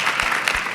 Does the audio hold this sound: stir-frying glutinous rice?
no